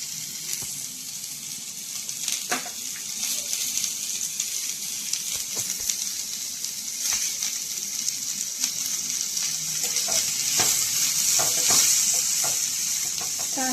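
Thinly sliced onion frying in a spoonful of oil for chicken rassa crackles in a constant close sizzle, broken by repeated spoon scrapes and taps against the pan throughout, no voices.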